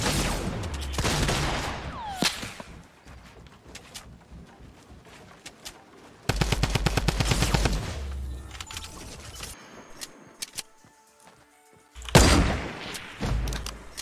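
Gunfire in Fortnite Battle Royale, with dense bursts of rapid shots in separate clusters near the start, middle and end, loud and close, between quieter stretches of game ambience.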